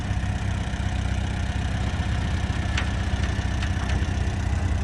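A tractor engine runs steadily at low revs, a loud, continuous low rumble heard close by, with a few faint clicks over it.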